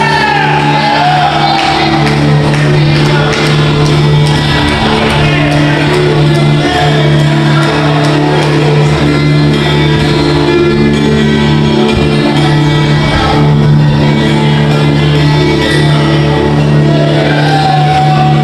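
Arena crowd at an HCW wrestling show cheering Nate Hammer, the Diesel Dog, on his return: a dense, steady roar of shouts, whoops and bellows filling the whole stretch, loud and unbroken.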